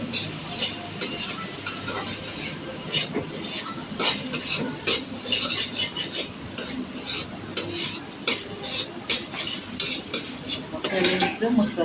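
Spices sizzling in hot oil with ginger-garlic paste while being stirred, for a dried fish (shutki) curry; a steady frying hiss with repeated scraping clinks of a spoon against the pan throughout.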